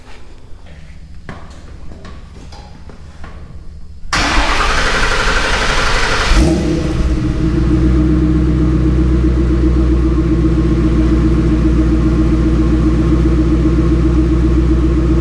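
A 1963 Ford F100 pickup with a swapped Crown Victoria engine cranks briefly, then catches and settles into a loud, steady, rumbling idle close by.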